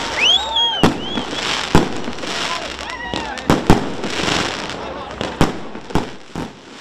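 Fireworks in a city centre at the end of a concert program: sharp bangs and crackling bursts go off irregularly, some whistling as they rise, with crowd voices and talk underneath.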